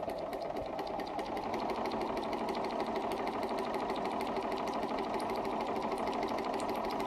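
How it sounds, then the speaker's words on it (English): Bernina 335 sewing machine stitching steadily around a curve, a continuous fast mechanical whir with rapid regular needle ticks, close and even throughout with no talking. "And I want you to sew to about the top. Try going fast, try going slow, see how things go."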